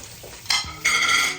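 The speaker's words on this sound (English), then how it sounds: "And now we're going to start taking care of our sausage. Frying that up until golden brown." Sausage sizzling as it browns in a hot pan, starting quietly then surging louder in two bursts, with faint utensil sounds.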